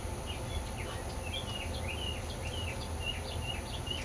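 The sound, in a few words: birds singing outdoors on a summer day in Louisiana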